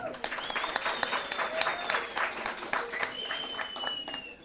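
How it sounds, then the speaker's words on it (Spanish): Audience at a Halloween science talk applauding a guest named William, a bright crackling wash of many hands at moderate distance, with a voice and a long whistle-like tone sounding over the clapping. "Démosle un aplauso a William."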